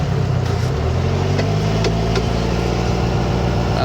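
A 1967 Volkswagen Beetle engine runs steadily while driving, a close, constant low mechanical drone with a few faint clicks as it downshifts.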